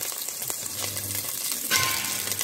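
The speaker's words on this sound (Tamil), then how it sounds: "இதில் நம்ம இப்போ கடுகை போட்டு வெடிக்கிறது" Mustard seeds spluttering in hot oil for kootanchoru, a dense continuous crackle and sizzle up close with faint low hum underneath, no voices.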